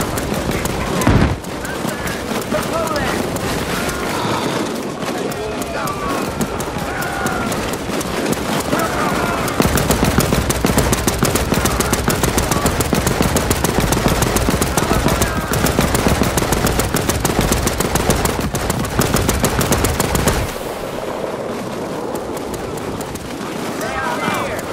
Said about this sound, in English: Get on that machine gun!